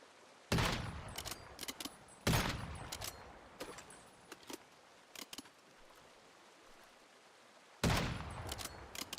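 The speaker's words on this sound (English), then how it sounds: "Stop shooting me in the face with exploding bullets." Gunfire with exploding bullets in the survival shooter Once Human: a few loud, sharp shots with booming tails, spaced seconds apart, mixed with quicker distant pops and crackles.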